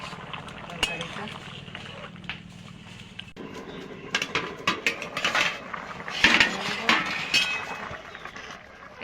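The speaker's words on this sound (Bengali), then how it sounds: "আমি ঢাকনা তুলে একটু নাড়িয়ে দেব" A metal lid lifts off a pot of taro curry, followed by clinks and scrapes of a spoon stirring, with a person talking throughout.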